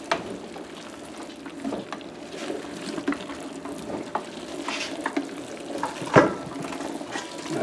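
Ground deer meat for salami or sausage being mixed by hand, soft wet squelching and stirring with steady low scraping and one sharper clunk near the end, no talking.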